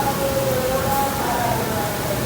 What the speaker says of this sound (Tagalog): Super lakas ang ulan ngayon.